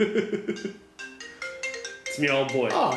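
A mobile phone rings with a repeating melodic tone, fairly close and loud, while people talk over and around it.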